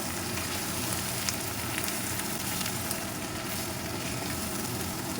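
Spice paste sautéing in a hot pan for Bengali prawn malai curry, a dense, steady close-up sizzle and crackle with faint stirring scrapes, alone without talk.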